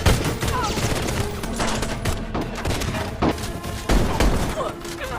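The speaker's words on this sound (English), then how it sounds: "Fortunately, Juan managed to shoot Mother in the face, before they finally managed to escape." Gunfire in a film battle scene against masked purgers: dense, loud bursts of shots and heavy thuds that run continuously, with a few sharper impacts standing out, all mixed with a busy soundtrack.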